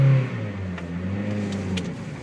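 A manual car's engine revs steadily during a bad clutch-slip launch from a stop, a sustained droning note that holds and rises slightly over a couple of seconds, heard alone.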